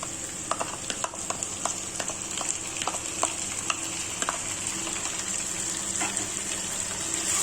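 Garlic, ginger and chili paste sizzles in hot oil with a steady hiss dotted with small crackles and spits, heard close up with no talking.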